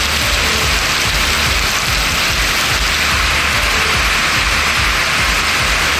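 Heavy rain pours down steadily, a dense, loud, unbroken hiss of drops on surfaces with a low rumble underneath, continuing without pause.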